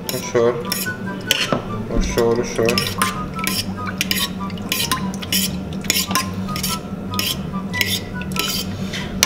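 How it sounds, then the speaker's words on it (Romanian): A utensil whisks and clinks against a bowl while stirring a pancake batter of milk, eggs and oil, a rapid close tapping and scraping rhythm that runs throughout without talk. "După aceea vom pune chestia asta în lapte, ouăl și uleiul și vom amesteca ușor"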